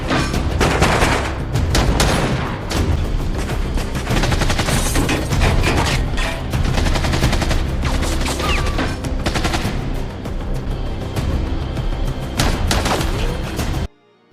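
A shootout in the Liam Neeson film The Marksman fills the scene with loud, dense gunfire: rapid overlapping shots and bursts mixed with booms and score. It runs without a break until it cuts off abruptly at the end.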